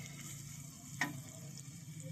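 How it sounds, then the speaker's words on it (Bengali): Onions fry in hot oil with a soft, steady sizzle, broken by a single sharp clink of a stirring spoon midway; quiet and close, with no talking. "পেঁয়াজটাকে ভাজবো। পেঁয়াজটি ভাজা হয়ে গেলে এর মধ্যে দিয়ে দেবো আমি"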